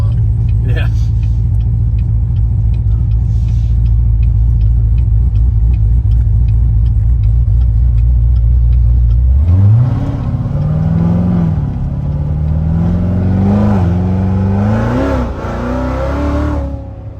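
A 750 rwhp C7 Z06 Corvette with an LT4 engine and BTR stage 2 camshaft idles with a loud, choppy lope, then revs hard in several rising and falling bursts, close and dominant.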